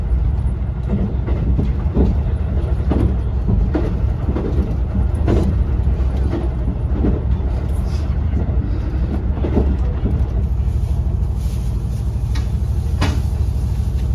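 A JR Kyushu Yufuin no Mori limited express rolls at reduced speed on its approach to Hakata Station, with a loud steady rumble, rhythmic wheel clicks over rail joints and occasional rattles heard from inside the train.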